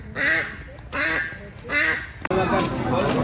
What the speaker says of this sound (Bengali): হাঁস কক কক করতেছে